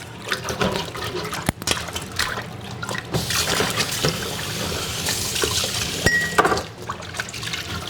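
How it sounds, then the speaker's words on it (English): Tap water runs close and steady as hands are rinsed in a kitchen, splashing and gurgling with shifting flow and brief clinks, with no voices. "I'm going to give my hands a little rinse."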